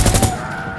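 A quick burst of pistol shots in a video game cracks out at close range, then tails off into a short echoing decay.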